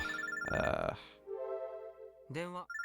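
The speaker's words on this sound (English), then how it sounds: "I get a call on my Pokecom." A Pokecom phone ringtone in the video game Robotics;Notes Elite: a brief electronic ringing melody with a short voice-like sound near the end.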